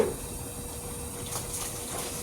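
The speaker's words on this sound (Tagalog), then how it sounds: "inaano ko yung tubig pinupuno ko yung balde" Water pours steadily into a bucket from a tap or hose, a constant rushing gush that carries on without a break during chores while doing laundry.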